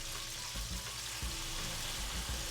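Soy sauce hits a hot pan during the cooking of cauliflower steaks with green beans, giving a steady, close broadband sizzle with a few low thumps, alone without talk.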